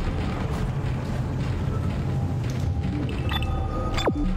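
An object explodes in the Dead Space video game, a sharp burst near the end over a steady rumbling, mechanical ambient bed, with a faint tonal sweep just before.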